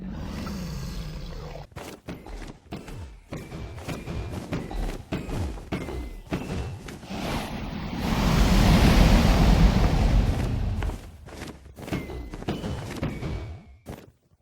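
Minecraft Ender Dragon fight: a dense run of loud thuds and hits with a rushing wind-like roar that swells in the middle, then short impacts and clicks trailing off at the end.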